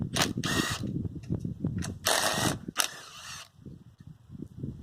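A ratchet working on 10mm intake manifold bolts of a Mazda Miata, a few short bursts of rapid clicking close up amid knocks and tool handling, no talk.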